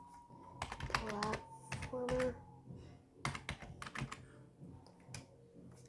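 Typing on a computer keyboard, with quick irregular clusters of close key clicks spread through the clip. A voice speaks briefly over the tapping.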